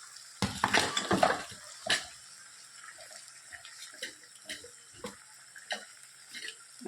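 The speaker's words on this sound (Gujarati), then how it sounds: "આપણે હલાવી લઈએ એટલે છૂટા પડી જાય" Soaked flattened rice grains and masala are stirred in a pan, giving a few close clattering scrapes up front, then scattered lighter clinks and taps.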